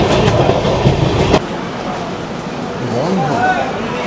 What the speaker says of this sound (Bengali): কি ট্রেন গেল বুঝতেই পারলাম না, তার আগেই বেরিয়ে গেল